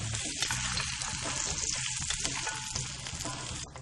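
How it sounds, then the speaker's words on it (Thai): Shiitake mushrooms fry in oil in a pan over low heat, giving a steady, close sizzle with faint crackles and stirring throughout, and no voices. "เราจะนำเห็ดหอม ลงไปเจียวในน้ำมันให้หอมดีก่อนครับ ใช้ไฟอ่อนๆครับ"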